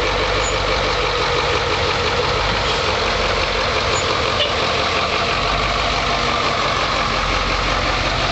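Converted school bus with air brakes idling and creeping around a parking lot, a steady broadband engine rumble holding even and continuous from start to end.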